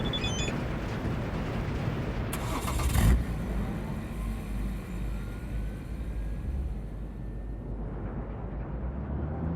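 A vehicle engine in the video game Cyberpunk 2077, a low steady rumble that swells briefly in a burst of noise early on, then settles into a continuous drone that fades somewhat toward the end, with no voices.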